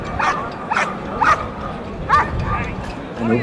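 A police dog barks during a KNPV trial exercise, with about five sharp barks spaced through the clip while someone talks over them.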